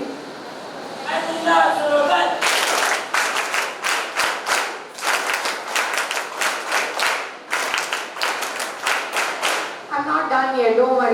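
An audience at a Kargil memorial event breaks into a long round of hand clapping, dense bursts that swell and dip in waves, with a speaker talking just before and just after.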